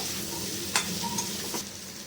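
Ground spice paste sautéing in a pan for a potato, cauliflower and prawn curry, a steady soft sizzle with a few stirring scrapes, close and moderately quiet, with no talking.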